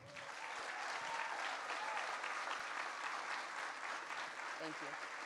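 At a charity gala, a crowd gives a round of applause: steady, dense clapping sustained across the room, with faint voices mixed in, heard from some distance.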